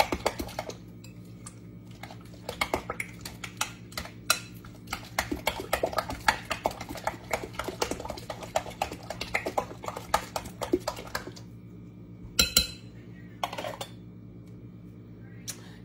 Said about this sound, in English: So you're going to mix this up good.